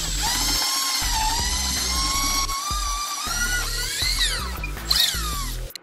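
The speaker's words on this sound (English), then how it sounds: "Give it a crank, and just go ahead and drill it." A cordless power drill drives a bit into a scrap wood board for a simple shelf build, its whining motor rising and falling steadily for several seconds close to the microphone, with a brief squeal and strain near the end.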